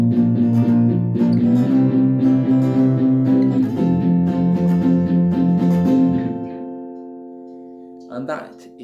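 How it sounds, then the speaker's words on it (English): Palm-muted power chords chugged on an electric guitar ring out loud and close in a steady run of repeated strums, shifting chords midway, then fading into a short tail with a brief scrape at the end. "if we were to just strum them chugged or palm muted, it would sound like this"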